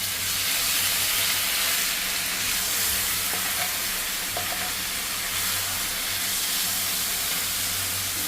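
Ginger, garlic, onion and tomato paste sizzles loudly and steadily in a hot pan, a dense close-up frying hiss with faint stirring clinks and no talking.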